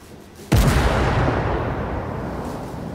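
A single heavy tank cannon blast in the video game Armored Warfare, with a sharp loud onset and a long rumbling decay that fades over a couple of seconds.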